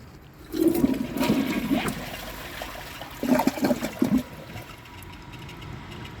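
A 2012 Jacuzzi Perfecta toilet flushes in a loud rushing surge of water, easing briefly, then swelling again in a second gurgling burst before fading to a quiet trickle.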